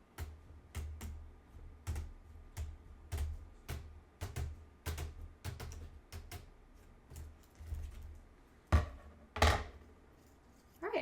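Snips cut down the side of wire mesh for a moss pole, a steady run of close metallic clicks and thunks roughly every half second, ending with a couple of louder crunches.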